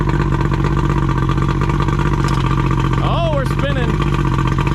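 A homemade boat's engine idles loudly and steadily, its exhaust running out of the drop, as it is thrown into gear. A few brief squeaky chirps rise over the constant rumble.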